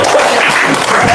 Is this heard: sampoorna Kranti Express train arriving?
no